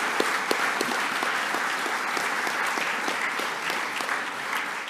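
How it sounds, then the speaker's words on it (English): An audience applauds football players at a press conference, dense steady clapping with a few sharper individual claps standing out, continuous throughout. "And so let's give our football players a round of applause."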